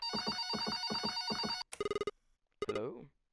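Telephone ringing in the horror video game Red Bow: a loud, electronic double-pulsed ring repeats several times, then breaks off into short bursts of tones with gaps of silence between them.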